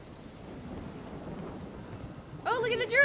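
Steady rain hisses in The Witcher 3 video game, a soft, even wash of falling water throughout, with a voice breaking in over it near the end.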